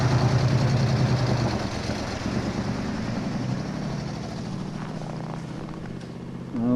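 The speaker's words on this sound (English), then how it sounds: "looks like the loader is going to be used as the engine to tow the church" A loader's engine rumbles loudly and steadily as it tows a church building during a house-moving operation in Fort Smith, Northwest Territories, in March 1998, at about minus 28 degrees. The low drone holds throughout with no talk.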